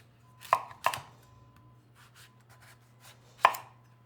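Knife cutting squash into quarter-inch slices, with three sharp chops standing out clearly against a quiet kitchen background and softer cutting noises in between.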